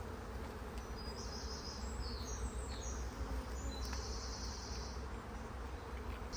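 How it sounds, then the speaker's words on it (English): Honey bees swarm thickly in an opened beehive, a dense, steady buzzing drone that runs unbroken and close throughout, with no voices. "I mean, see how many bees there are already."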